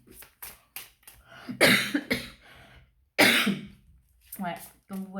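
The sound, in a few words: cough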